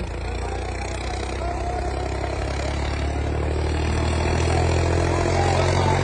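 A tractor engine idles close by, a low continuous rumble with some rattling clatter, holding even throughout with no other sounds standing out.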